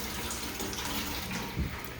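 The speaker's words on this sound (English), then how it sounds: "we got kitchen water." Water runs steadily from a newly plumbed kitchen faucet in an off-grid home, a loud continuous rushing gush with a brief splash near the end.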